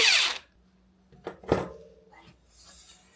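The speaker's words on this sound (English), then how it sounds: "Screw the rear mudguard on." The rear mudguard of a Duotts N26 dual-motor e-bike is screwed on: a loud opening rattle, then a few short metallic clicks and taps against quiet gaps.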